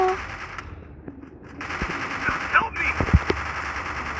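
Gunfire in the mobile battle royale game Free Fire: a few sharp, close shots cluster toward the end over a steady hiss of game audio, and a voice is faintly present.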